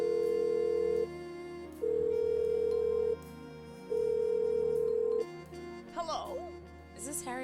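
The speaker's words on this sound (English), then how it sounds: "Let's try giving her a call." A telephone ringback tone in the Blackwell Unbound adventure game sounds as steady repeated beeps in an even on-off rhythm, then a voice starts speaking at the end.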